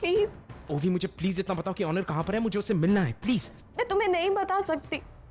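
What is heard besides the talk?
None of the usual background noises is heard.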